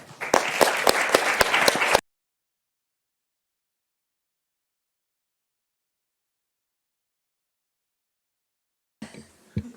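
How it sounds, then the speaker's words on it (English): A brief burst of brisk audience applause at the close of a conference on social enterprise funding, lasting about two seconds before cutting to silence, with a faint sound returning at the very end. "Round of applause again"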